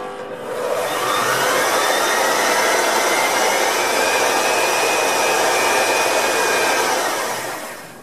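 A belt sander running at about half speed while a Western-style hand plane blade is sharpened on it, giving a loud, steady motor whir with a broad grinding hiss that rises, holds for several seconds, then eases off.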